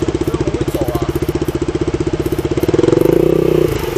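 A modified motorcycle with an illegal loud aftermarket exhaust, checked by police on a road in Hualien, Taiwan, thrums in a rapid pulsing idle, then swells louder and rougher as it revs up near the end.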